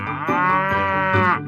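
A cow gives a single loud, close, sustained moo with a rich harmonic tone, lasting over a second before trailing off.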